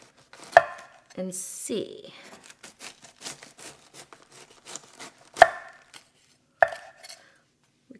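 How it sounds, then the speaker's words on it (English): A knife shaves and chops through a head of cabbage on a board, giving a series of crisp cuts and a few sharp knocks against the board. Soft talk runs between the cuts. "I'm gonna start just by shaving off a little bit here"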